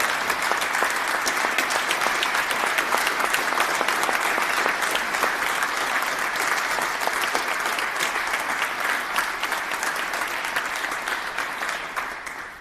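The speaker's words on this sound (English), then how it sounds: "So if you can please help me give me a round of applause." A crowd at a legislative tribute gives a round of applause for the clerk and staff, sustained and dense, with even clapping that fades slightly at the very end.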